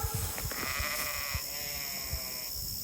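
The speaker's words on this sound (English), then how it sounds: "Sheep, sheep." Sheep bleating in a pasture, two drawn-out calls in succession over steady wind noise and low thumps, moderately close.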